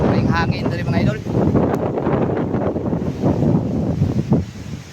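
Seaside wind at Zambuanguita rumbles steadily against the microphone in gusty waves, loud and close, while someone speaks over it.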